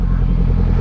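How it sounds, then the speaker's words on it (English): Kawasaki Ninja 400 motorcycle fitted with a Leo Vince exhaust, idling and revving with a steady, loud low rumble and rough crackle close by, no talk over it. "Work it on that Ninja 400 Leo Vince exhaust."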